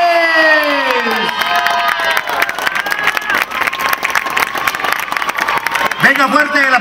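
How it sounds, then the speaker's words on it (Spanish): Crowd of parents, teachers and children applauding, cheering and shouting at the inauguration of a school dome in a neighborhood, loud and continuous, with voices and whistles over the clapping. "Venga, fuerte el aplauso."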